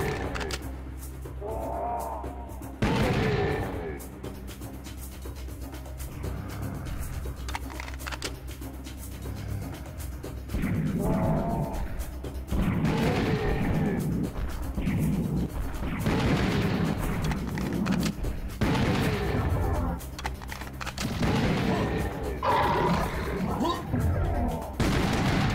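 Pistol shots from the retro video game Karnak 1996 crack out repeatedly in fast bursts over a steady droning background, loud and close, with someone talking in between.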